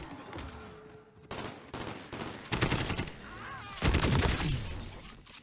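Bursts of automatic gunfire in the shooter Call of Duty Warzone, rapid volleys that grow louder and denser over a few seconds, with cries and chatter from players mixed in.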